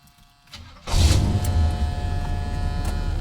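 A G-body car that sat for 22 years, fitted with a Quadrajet carburetor, cranks briefly, fires with a loud surge and settles into a steady, rough idle nearby.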